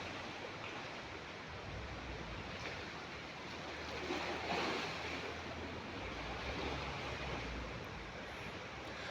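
Water at the Secret Lagoon gives a steady, moderately loud wash of small waves and rushing water, with faint wind buffeting the microphone throughout and a slight swell in the middle.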